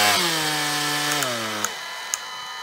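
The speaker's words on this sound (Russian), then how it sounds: "это не болгарка, он туда-сюда вращается, реноватор" Cordless oscillating multi-tool (renovator) running at low speed: a loud, close, steady buzzing whine that winds down in pitch and stops, followed by a couple of small clicks.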